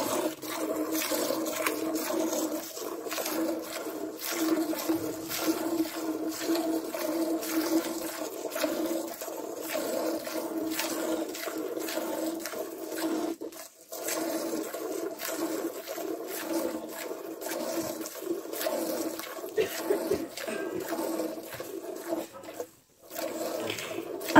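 Continuous close hissing squirts of a cow being milked by hand into a bucket, a dense steady stream of spurts with a couple of brief gaps.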